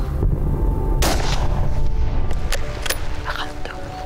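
Two sharp gunshots crack out a couple of seconds apart during a roe deer hunt, standing out against steady outdoor rumble and wind noise.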